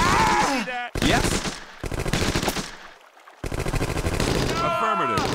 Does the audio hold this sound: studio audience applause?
no